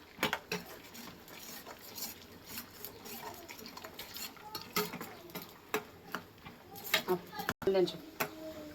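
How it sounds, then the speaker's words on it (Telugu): A spoon scrapes and clinks against a pan on the flame as peanuts for lemon rice are mixed in, with steady ticking stirring sounds and faint sizzling throughout. "2 minutes లో ఫ్లేమ్లో మిక్స్ చేయాలి ఫ్రెండ్స్"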